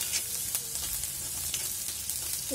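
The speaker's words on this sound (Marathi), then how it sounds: "हा बघा, असा कांदा लालसर होईपर्यंत परतायचा" Onion fries in a pan with a steady close sizzle, and occasional stirring scrapes break through it. It continues for a couple of seconds with no talking.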